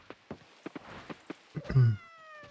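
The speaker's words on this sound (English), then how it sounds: "Kitty cats." Cats meowing in the farming video game Coral Island: after a few soft, evenly spaced taps, a single drawn-out meow rises near the end, fairly close and clear, with no talking.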